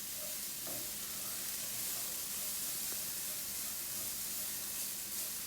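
Chopped vegetables for a quick chili cooking down with salt in a pan, giving a steady soft sizzle and faint frying crackle throughout, close and even, with no talk.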